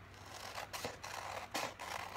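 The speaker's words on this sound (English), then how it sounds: "These are horrible scissors." Scissors cut aged paper strips in several quiet, crisp snips spaced irregularly, close up with soft paper rustle between cuts and no talking.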